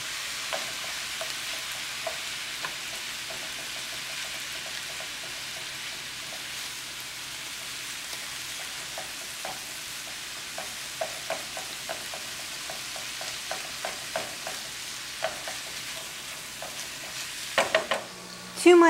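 Bacon, hamburger and onion sizzle steadily in a frying pan, a dense close hiss with occasional stirring scrapes and small pops, growing busier near the end, with no talking.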